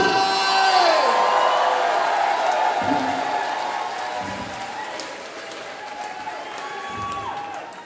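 Crowd applause and cheering at a rock concert at Rock City, a dense roar of clapping and whoops that swells loudly and then slowly fades, with an amplified voice over the top.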